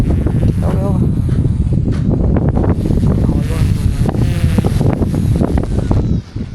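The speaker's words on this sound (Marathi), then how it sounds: "एवढं बेकार वारं आहे." Strong wind buffets the microphone at a house construction site, a loud, continuous roaring rumble throughout, with a person talking underneath.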